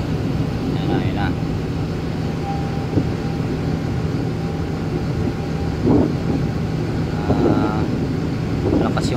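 A departing ship's engine drones low and steady in the distance beneath strong wind noise, with people talking intermittently nearby.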